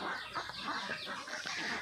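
Egg-laying ducks on a farm clucking and squawking in a dense, continuous flurry as two birds are caught and held by hand, close and fairly loud with no clear speech.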